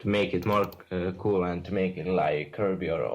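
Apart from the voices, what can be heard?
None of the usual background noises is heard.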